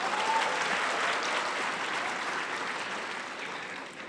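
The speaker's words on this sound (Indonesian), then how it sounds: "Tepuk tangan dulu untuk Pak Dino Patijalal." Sustained audience applause fills a conference hall at a geopolitics forum, a dense steady clapping from a large crowd that stays loud throughout and fades slightly toward the end.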